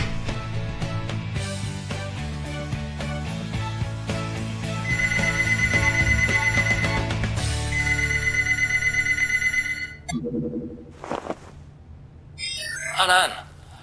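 A phone rings repeatedly while a call is placed through a voice assistant, giving a steady run of bright electronic tones over a busy musical background before the sound cuts off into brief scattered noises.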